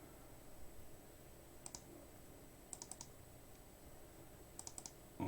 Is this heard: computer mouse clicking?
yes